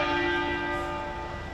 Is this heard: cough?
no